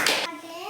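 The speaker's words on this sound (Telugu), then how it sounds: "రైట్. క్లాప్." Hands clap during a first-class maths lesson, a short bright burst of applause that quickly gives way to a voice.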